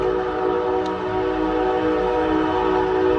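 Amtrak passenger train rumbling past nearby with a sustained horn blast, steady and loud throughout without any talking.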